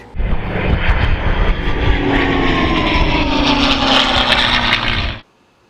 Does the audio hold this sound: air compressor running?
yes